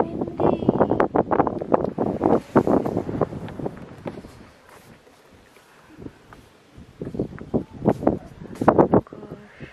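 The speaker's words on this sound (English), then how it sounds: "It's really cold and windy." Cold desert wind gusts loudly against the microphone at Jebel Hafit, buffeting in strong bursts that ease off midway and then return, with a voice speaking intermittently under the roar.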